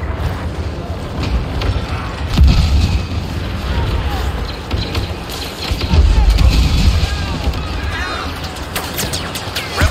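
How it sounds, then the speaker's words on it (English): Airstrike explosions in the video game Star Wars Battlefront, with heavy booming blasts rolling in around mid-clip amid constant battle noise and laser fire, while game voices speak over the combat. "Real airstrike incoming."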